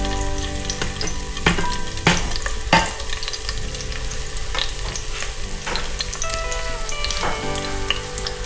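Chopped garlic frying in hot oil in a pan for mutton fry gives a loud, continuous sizzle with crackling pops and occasional stirring scrapes, close up and without talk.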